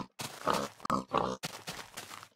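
A pig in the Minecraft video game gives a string of loud, close grunting oinks, several bursts in quick succession with no talk over them.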